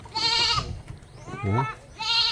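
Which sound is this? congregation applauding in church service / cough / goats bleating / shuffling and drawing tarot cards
goats bleating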